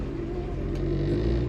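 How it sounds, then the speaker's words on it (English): A blue 1966 Chevy Nova SS clone with a small-block 350 V8 and Turbo 350 transmission runs in a steady, close, low engine rumble that swells slightly toward the end, with no pauses. "that 350 V8 fires right off just like it should"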